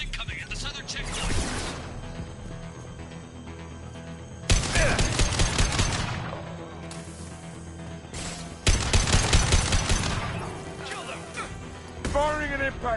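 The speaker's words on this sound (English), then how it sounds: "Firing an impact shot." Bursts of automatic weapon fire in a Mass Effect 2 firefight, three long rattling volleys separated by quieter gaps with game ambience, ending on a short whooshing energy sound.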